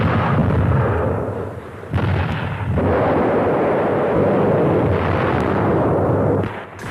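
Artillery cannon fire during the siege of the Alcázar: a loud, continuous rumbling barrage with a few sharper bursts breaking through, heavy and dense throughout, with no voices.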